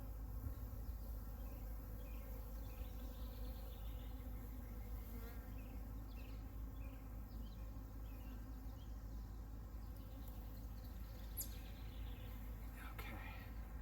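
Honey bees buzzing around an open single brood box during a split, while a pollen frame is handled, a soft continuous hum of many bees heard close but quietly, with faint speech in the background.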